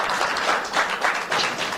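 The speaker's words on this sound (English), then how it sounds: "I think that deserves a round of applause." Dense, even applause from guests at the BRICS spousal luncheon, with many hands clapping at once close by throughout.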